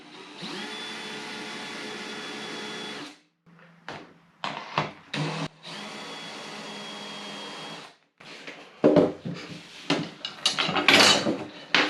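Power drill boring a 1/4 inch guide hole near the edge of a part for a folding jump seat for utility vehicles or RVs, heard as a steady close whine for about three seconds, then short bursts of drilling and handling clatter.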